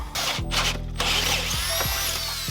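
A Dremel rotary tool fitted with a sanding drum grinds powder coating off a Puch moped crank arm, its high whine starting and stopping in several short bursts, close and fairly loud.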